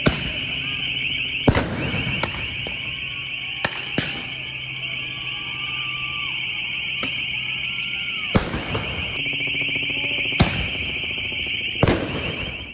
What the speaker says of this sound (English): shot a few Roman candles towards the cops, who responded with more pepper balls and tear gas